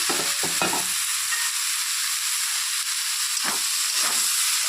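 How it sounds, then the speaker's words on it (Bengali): Dried fish being stirred in a pan with cumin and eggplant, a steady frying hiss with a few scraping utensil strokes near the start and again toward the end, close and moderately loud. "মাছটা দিয়ে একটু নেড়ে চেড়ে তারপর এখন জিরে আর বেগুন দিয়ে দিচ্ছি"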